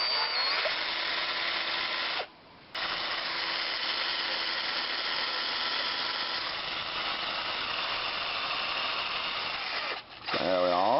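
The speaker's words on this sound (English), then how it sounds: "we'll drill through here" A power drill bores through the wing of an 800mm FMS foam model plane, its whine running steadily and breaking off twice in short pauses before starting up again.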